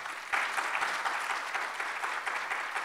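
An audience at a national road conservation conference applauds to welcome a speaker. The clapping from the crowd is sustained and evenly dense, starts abruptly, and continues to the end.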